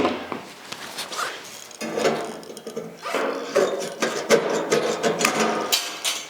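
A file scrapes material off the corner of a hand-built custom fender for an AWD '74 car, making rapid rasping strokes in an uneven rhythm, close and fairly loud, with no voices.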